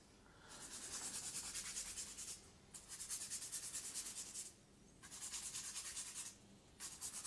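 A nail file rubs in steady rasping strokes along the free edge of a gel nail with diamond decoration, bevelling it in three bursts separated by short pauses, close and moderately quiet.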